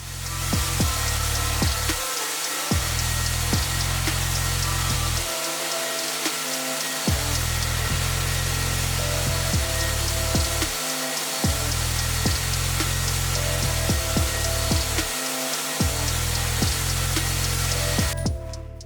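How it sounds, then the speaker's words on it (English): A powered sanding machine works over a second layer of microcement in a renovated Tuscan house bathroom, a loud steady whirring drone that pauses briefly several times, with scraping and knocks throughout. "And this is sanding of the second layer."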